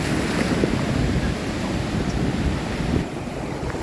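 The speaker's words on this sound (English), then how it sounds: "you look at those waves out there" Ocean waves roll in against the rocky shore near Phare des Baleines on Île de Ré, a loud, continuous roaring wash mixed with heavy wind buffeting the microphone.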